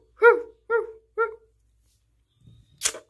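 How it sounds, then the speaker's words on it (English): Dog barking three times in quick succession, close and clear, followed by a short pause, a faint low rustle and then a sharp noisy burst. "Bro, your dog's just barking."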